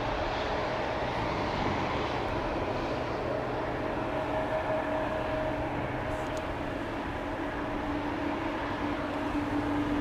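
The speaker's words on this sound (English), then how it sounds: "KLM Flight 757. Obviously not a Boeing 757, but a 787-10 Dreamliner, which will be leaving for Panama City pretty soon." A KLM Boeing 787-10 Dreamliner at Amsterdam Schiphol Airport gives a steady, distant jet engine drone with a faint whine, constant and even throughout.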